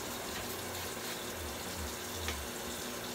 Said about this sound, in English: wash my hands because I haven't washed my hands yet, folks